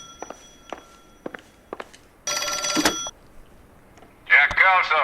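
In the L.A. Noire video game, a telephone rings with a bright, sustained bell burst after several footsteps, followed by a short crackly voice on the line.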